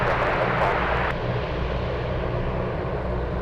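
A UPS cargo plane's engines roar at Anchorage airport, a loud, steady broadband rumble with a hissing upper layer that drops off sharply partway through, heard close and continuous.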